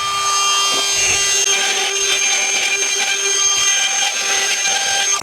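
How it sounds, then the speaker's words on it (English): A loud, steady high-pitched whine of a power router biting into oak, cutting recesses for door hinges, continuous and close, with no speech. "you're just going to route it to your lines"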